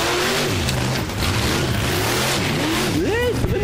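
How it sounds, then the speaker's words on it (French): A drifting car's engine revs and whines loudly, its pitch climbing and falling in sweeping surges, with people talking excitedly over it. "ce que j'aime, c'est son bruit de moteur."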